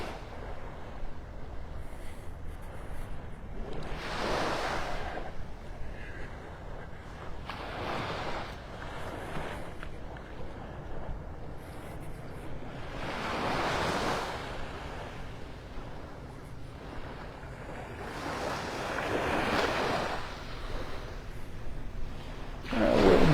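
Ocean surf rolls onto a beach by the Naples Pier in Old Naples, Florida, with waves swelling and breaking in repeated soft surges every few seconds under gusting wind noise.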